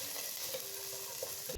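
Thin strips of carrot sauté in ghee in a pan with a faint, steady sizzle and a couple of soft stirring touches, over a brief stretch.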